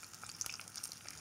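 An egg fries in a pan, giving a quiet, light sizzle with faint pops and spits, soft and steady throughout and heard alone.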